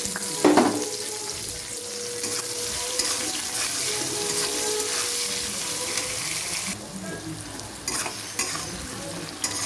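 Chopped onion sizzles steadily in hot oil with bay leaf, dried chilli, cinnamon, clove and cardamom, a continuous close frying hiss with scraping stirs and a few clatters, no talk.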